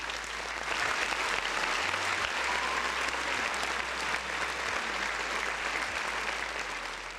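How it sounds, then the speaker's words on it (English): A steady, even round of applause plays for several seconds, a dense wash of many hands clapping at a constant level with no voices on top. "Round of applause for the folks in the chat."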